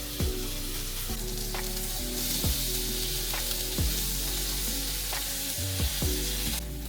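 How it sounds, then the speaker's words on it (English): Lemon slices browning in melted butter in a pan give a steady, close sizzle throughout, broken by a few sharp clicks and scrapes as the pan or slices are moved; no one speaks. "Now add sliced lemon to the pan and brown on each side for about 3 minutes."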